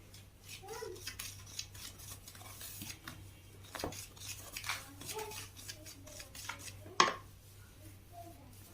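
Homemade detergent ingredients, including salt, being stirred together by hand in a container, with soft scraping and clinking over a low hum, one sharp knock near the end, and faint voices in the background.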